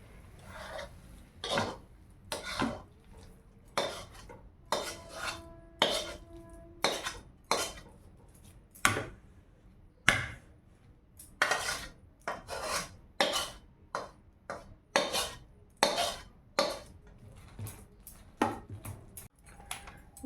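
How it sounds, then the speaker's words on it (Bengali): A spoon stirs Amul milk powder into warm water in a metal vessel, giving repeated close clinks and scrapes in a steady rhythm for about twenty seconds, with no talking. "আমুল দুধ একটু গরম জলে গুলিয়ে নেই"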